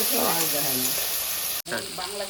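Potatoes and tomatoes sauté in a pan for a shrimp and banana-flower dish, a steady close sizzle filling the clip with a brief cut near the end, while a voice talks over it.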